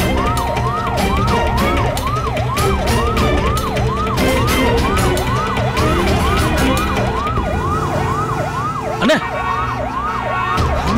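An ambulance siren wails in a fast, repeating rising-and-falling pattern, loud and close, over steady traffic noise.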